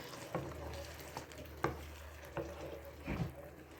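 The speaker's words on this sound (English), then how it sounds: "Just going to stir this around." Stirring a one-skillet gnocchi and hamburger dish, with a few soft scrapes and taps of a utensil against the pan over a faint sizzle, quiet and close.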